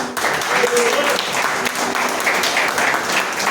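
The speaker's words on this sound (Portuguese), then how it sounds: "as palmas agradecem o nosso Deus" A church congregation claps in praise to God, loud sustained applause filling the hall, with voices audible beneath it.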